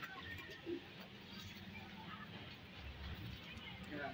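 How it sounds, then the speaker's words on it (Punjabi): Pigeons on a rooftop loft, including a fancy gift breed from Muscat, coo softly and intermittently at a moderate distance against a low rumbling background. "ਕਬੂਤਰ ਮੈਨੂੰ ਲੱਗਦਾ ਬਾਹਰ ਨਿਕਲਣ ਦੀ ਕੋਸ਼ਿਸ਼ ਕਰਦੇ ਨੇ ਪਏ"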